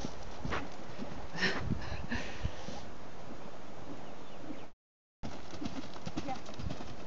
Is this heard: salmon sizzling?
no